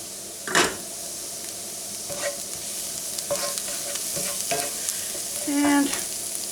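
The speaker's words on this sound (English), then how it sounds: "Throw in the spices quick. Leave them get toasted a little bit." Spices toasting and sizzling in a Lodge skillet, a steady frying hiss with a few sharp stirring scrapes and clinks, close and moderately loud, with no one talking.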